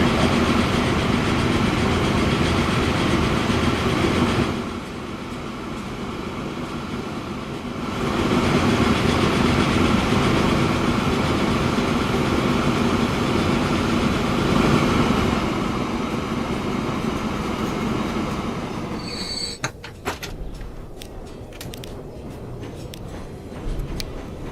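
A train from Transport Fever 2 runs steadily on rails, a dense rumbling roll that dips briefly around five seconds, then continues before breaking into scattered clicks and lighter rail noise near the end.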